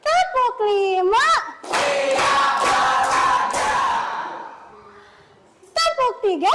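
Schoolchildren play a clapping game, striking a quick series of about five loud claps in unison amid excited voices. Someone talks on either side of the burst.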